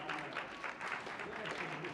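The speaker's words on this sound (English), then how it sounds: "Let's give a round of applause to our volunteers." Faint, steady applause from a congregation at a Sunday worship service fills the short stretch. It sounds soft and somewhat distant, with possible voices mixed in.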